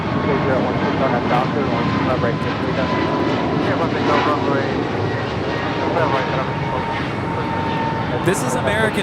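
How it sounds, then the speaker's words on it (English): An American Airlines A321neo jet departing LAX for Dallas Fort Worth makes a broad, steady engine roar, with a person talking over it. "This is American Airlines 2543 departing to Dallas Fort Worth on an A321 Neo."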